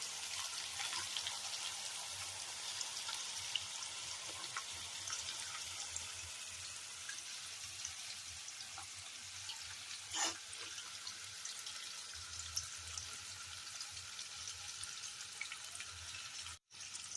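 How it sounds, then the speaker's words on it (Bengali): Carrots and other vegetables sizzle in hot oil in a kadai, a steady, moderately quiet crackling frying sound throughout with a brief sharper clatter near the middle and a click near the end. "এইবার আমি কড়াইয়ের তেলটা গরম হয়ে গেছে, এর মধ্যে দেবো সব সবজিগুলো"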